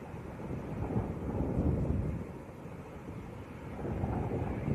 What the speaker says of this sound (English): Very windy. The wind's picking back up again.